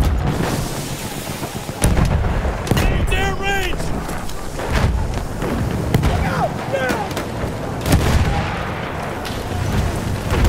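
Grenade blasts and bursts of gunfire from a Battlefield 1 battle, with sharp booms and crackling shots spread through the clip over a dense background of combat noise, with speech-like sounds mixed in.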